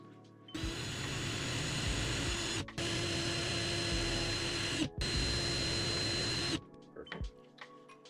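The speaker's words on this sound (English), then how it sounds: "Got the mini drill bit." A mini drill bores into a handmade bluefin tuna fishing lure, running in three long steady whining bursts separated by brief stops, close and loud, then falling quiet with small handling clicks.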